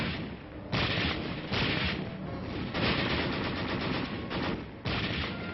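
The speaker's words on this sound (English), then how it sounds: "red artillery making an inferno of the city" Artillery and gunfire in the street battle for the city of Taejon, Korea: sustained heavy bursts of firing and booms, loud and continuous, in old band-limited wartime film sound with no talk.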